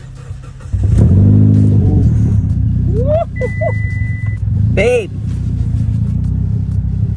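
A Mitsubishi Evo X engine cranks and catches, then idles loud and close with a couple of sharp revs rising above the rumble while someone speaks briefly.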